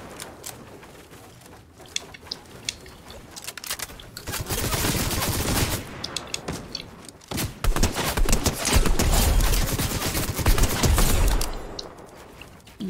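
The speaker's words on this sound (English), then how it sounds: "Yeah, I just heard it's shooting" Gunfire in the Fortnite video game: bursts of rapid shots crackle in short volleys, starting sparse and growing denser and louder, with sustained automatic fire in the second half.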